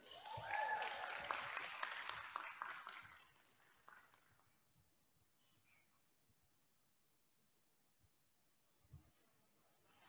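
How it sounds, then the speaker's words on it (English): A crowd at a spring honors convocation applauds a group of students, the clapping lasting about three seconds before fading into a quiet room with faint scattered sounds. "Give this group a round of applause"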